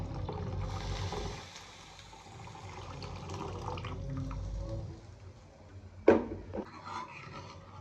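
Hot water is poured into a thick pot of sambar in a home kitchen. A steady splashing pour runs for about five seconds, then stops, and a sharp clunk of a vessel follows near the end.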